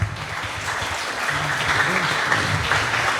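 Audience applause at a Quran study gathering, a continuous brief burst of clapping with voices murmuring and calling out underneath.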